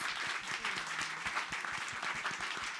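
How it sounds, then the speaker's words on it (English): An audience at a music industry masterclass applauds its panelists with sustained, dense clapping, individual sharp claps standing out near the front, with a faint voice briefly underneath. "Again, a round of applause for our panelists today,"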